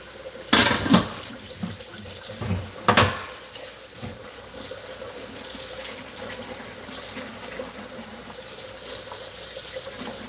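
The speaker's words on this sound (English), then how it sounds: "we're going to get some fresh water and let it boil again" Fresh water runs from a kitchen tap into a pot for boiling, a steady close gush with a few louder splashes near the start and no talking.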